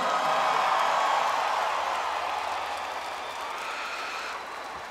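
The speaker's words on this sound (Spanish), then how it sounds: "¡Fuerte el aplauso!" A concert crowd applauds and cheers, a wide wash of clapping and voices at steady volume that slowly eases off toward the end.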